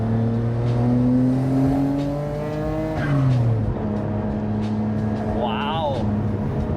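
A Nissan R32 GT-R on the road runs through rising and falling revs as it shifts gears, and a brief tire squeal comes near the end, all loud and close from inside the car.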